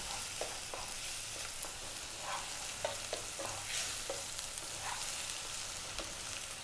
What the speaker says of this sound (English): we're now going to add in a tablespoon of garlic ginger paste